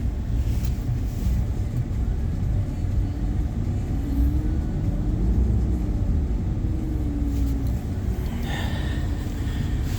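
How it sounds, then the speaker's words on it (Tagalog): A blue truck's engine in freezing cold gives a low, steady rumble that runs throughout at moderate loudness. "Tapos i-try natin na i-start din yung yung blue na truck."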